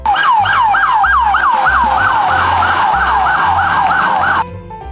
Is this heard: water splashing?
no